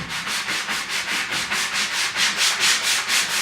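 Sandpaper rubbed over the edges of a painted wooden board in quick, steady back-and-forth strokes, a close, loud, rhythmic rasping heard alone.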